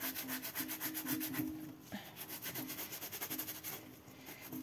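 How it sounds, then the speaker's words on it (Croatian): A sponge rubbed with a cleaning tablet scrubs a kitchen sink to strip grease and limescale, making steady close rasping strokes in a repeated back-and-forth rhythm with brief pauses, and no voices. "Dobro utrljajte tabletu i izribajte sudoperu"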